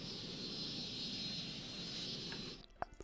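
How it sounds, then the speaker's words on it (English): A Virgin Atlantic airliner lands on a runway in Cities Skylines, giving a steady loud engine roar and whine that cuts off abruptly near the end, followed by a few faint clicks. "It's a Virgin Atlantic plane."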